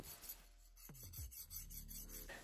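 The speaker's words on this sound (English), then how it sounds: "I like to test the edge hardness using a file. It should just skate right over the edge and not bite in at all" A steel file drawn across the hardened edge of a hand-forged knife blade before tempering, giving a short gritty rasp and skating scrape, close and fairly quiet against a steady low hum.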